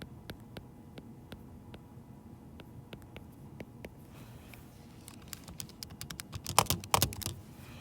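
Typing on a computer keyboard for a math lesson on geometric sequences, a string of close, crisp key clicks, sparse and evenly spaced at first, then turning faster and denser with a few louder taps near the end.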